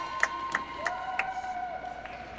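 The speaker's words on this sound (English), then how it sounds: "when you hear clapping right close to our broadcast location, you know that Stuart Thompson did a good shot" Spectators at a women's curling tournament semi-final clapping nearby, a few sharp claps standing out over a faint arena murmur.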